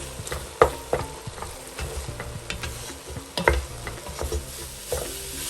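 Grated carrot halwa with cardamom powder being stirred and roasted in a pan, a steady soft sizzle with scraping strokes of the spoon and occasional sharper knocks against the metal.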